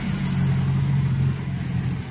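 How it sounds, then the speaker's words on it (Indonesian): Cars idle and roll aboard the ship KM Swarna Bahtera during loading at Pare-Pare, giving a steady, close engine hum with a low rumble and no pauses. "Ini mobil sudah naik ke atas kapal."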